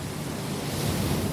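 Gentle ocean waves as a sound effect, a soft, continuous wash of surf rising slightly over a brief moment, alone without voices.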